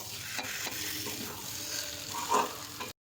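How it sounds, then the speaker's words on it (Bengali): Fish curry cooks in a pan on the stove, giving a close, steady sizzle with scraping stirs and a brief louder clatter before it stops abruptly. "মাছের ঝোলটা বসাবো।"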